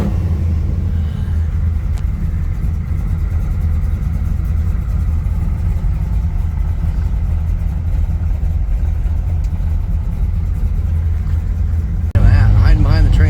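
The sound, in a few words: classic car engines as a tour group rolls out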